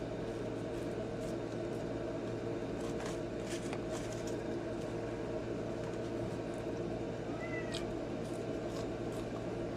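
One short, faint cat meow rises late, over a constant low hum with some brief clicks and rustles.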